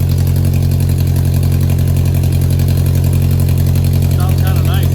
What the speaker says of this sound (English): I thought the cherry bomb was gonna make it a lot quieter, so I'm actually kind of happy how it sounds. Gives it a nice deep tone though.